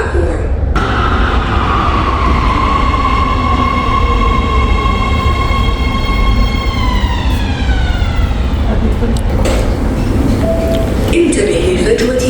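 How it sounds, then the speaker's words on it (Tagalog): A Riyadh Metro train pulls into the platform, a loud steady rumble with a descending electric whine as it slows, under ongoing station announcements. "The next train to Abdul Baydah is approaching."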